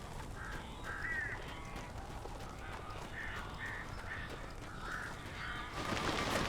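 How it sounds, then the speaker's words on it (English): Crows cawing in the video game Alan Wake Remastered, a series of harsh, repeated caws from several birds in short bursts over a low rumbling background, ending in a louder rush of noise. "These birds are weird."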